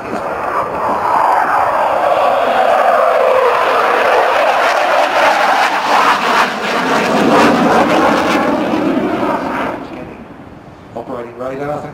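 Sea Vixen jet aircraft flying at an air show at Kemble, a loud sustained roar with a sweeping engine tone that builds and then fades, with voices appearing near the end as the noise drops away.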